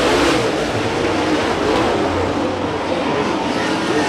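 Race cars roar through a heat race at Santa Maria Raceway, a dirt track, with a dense, continuous engine drone that stays loud and steady throughout and has no gaps.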